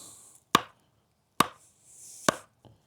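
A Worktuffgear ARES knife chops through synthetic rope in three sharp, loud strikes about a second apart, each a crisp close thwack that drops to near silence between blows.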